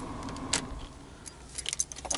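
A Nissan Cube 2010 car key with a microchip fob jangles in a few quick metallic bursts, close by, with a faint low car hum underneath.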